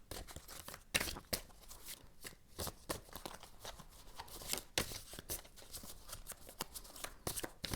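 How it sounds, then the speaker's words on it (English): Tarot cards being shuffled at close range, a steady run of crisp riffling and flicking bursts with brief pauses, no voices. "I'm gonna shuffle some cards about how your family sees you now"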